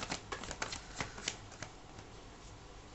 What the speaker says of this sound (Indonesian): aku akan ambil 5 kartu terlebih dahulu